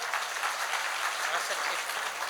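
An audience at a Jain religious sermon claps in a brief, steady burst of applause heard from some distance.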